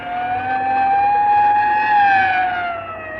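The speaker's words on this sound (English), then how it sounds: "you better pull over and let that ambulance get past before it runs us down" An ambulance siren wails loudly and steadily as it passes close by a car, its rising and falling tone sustained throughout without speech.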